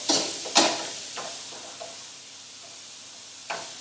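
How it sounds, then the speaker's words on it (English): Orange peppers drop into a hot pan with a bright sizzle, followed by a few scraping stirs and a steady, gentle frying hiss. "Okay, we'll add orange peppers."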